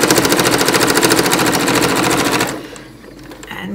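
Close, loud sewing machine stitching a coin purse, a rapid even needle chatter running steadily before stopping sharply, leaving quiet room sound and faint handling noise.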